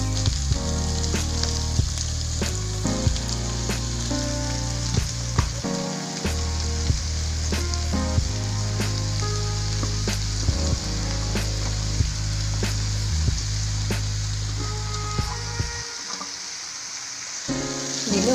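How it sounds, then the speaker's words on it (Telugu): Finely chopped sorrel leaves frying with onions in a pan, a loud dense crackling sizzle broken by frequent knocks and scrapes of stirring, no speech. "ఉల్లిపాయ వేగింది కదా, దీనిలో ముందుగా సన్నగా తరిగి పెట్టుకున్న 1 కేజీ చుక్కకూర అన్నమాట"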